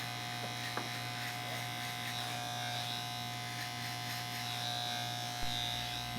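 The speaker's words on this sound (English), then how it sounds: "This is cutting as short as the clipper can cut." An electric hair clipper set to its shortest length buzzes steadily while cutting a low fade on dirty blonde hair, a close, constant hum with faint brushing strokes and a brief shift near the end.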